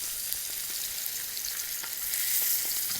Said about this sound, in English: So we're going to do most of the cooking on the skin side.